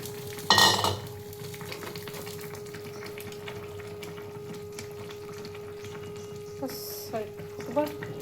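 Eggs frying in a pan for a Bengali potato omelette egg curry, a loud sizzle as they hit the oil, then soft steady frying with occasional light clinks.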